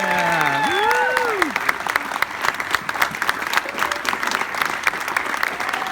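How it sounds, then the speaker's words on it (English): Audience applause at a HopeKids charity gala, a dense, sustained wash of clapping from a crowd that opens with a rising whoop or whistle and keeps a steady level throughout. "Big round of applause for Elizabeth."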